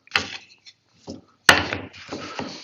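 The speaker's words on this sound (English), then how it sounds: "we'll use the bench hook to plane off both sides" Several short rasping strokes of a hand plane across a small wooden piece held on a bench hook, with quiet pauses between, the later strokes louder and longer.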